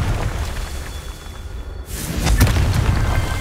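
A Confringo spell explosion in Hogwarts Legacy, one loud booming burst that hits midway and trails into a rumbling roar, following a steady lower rumble.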